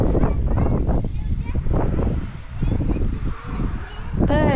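Strong wind buffets the microphone in a continuous loud roar, with gusts rising and falling throughout.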